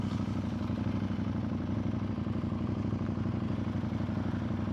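A big, heavy motorcycle's engine runs steadily and loudly throughout, a deep, continuous rumble with a rattling edge, as if heard while riding.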